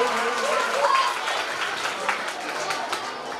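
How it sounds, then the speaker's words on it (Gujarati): An audience at a village welcome ceremony claps steadily to greet a gram panchayat member, a dense, even wash of applause with voices mixed in. "જોરદાર તાળીઓના ગડગડાટથી આપણે કિશોરસિંહને વધાવીએ."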